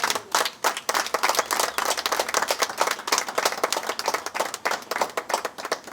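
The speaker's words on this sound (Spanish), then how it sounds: "Denle un aplauso al Señor." Church congregation clapping in praise, a dense, steady burst of many hands close and loud, continuing evenly for several seconds with no voices over it.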